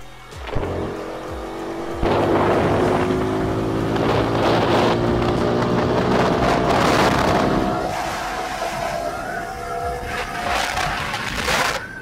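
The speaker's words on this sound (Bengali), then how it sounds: "আমি হচ্ছে এখন এই বাইকটাতে একটু 100 হিট করার ট্রাই করব, মানে আমি হচ্ছে চেক করব এই বাইকে 100 স্মুথলি উঠে কি না" A TVS Apache RTR 4V motorcycle accelerates hard toward 100, its engine note rising steadily through the gears with brief dips at each shift, loud and close with wind noise.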